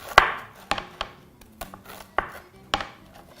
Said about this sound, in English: cut out the crusts